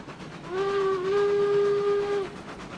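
Steam locomotive whistle in the RailRoads Online train game, one sustained loud tonal blast of about two seconds that starts and stops cleanly over a low background rumble.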